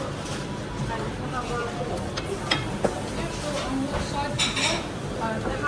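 Cutlery and dishes clink and rattle at a busy food counter during a shopping day out, with scattered metallic chinks over steady background chatter and talk.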